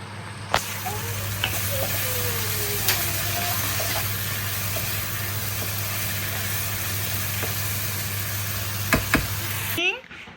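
Chicken frying in a pan gives a steady, close, continuous sizzle with a low hum under it. A few faint clinks and scrapes break in, and the sound cuts off abruptly near the end.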